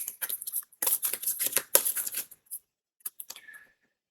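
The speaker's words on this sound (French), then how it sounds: "Et on va tirer des cartes." Oracle cards are drawn and handled with soft, crisp shuffling, sliding and flicking sounds in quick bursts, close up and quiet, trailing off into silence.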